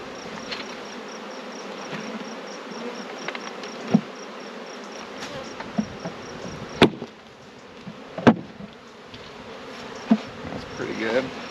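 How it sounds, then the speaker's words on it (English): A honey bee swarm being loaded into a hive, a dense, steady buzz of many bees close by, broken by occasional knocks and thumps of the wooden hive parts. "Now, I gotta get all these bees in there."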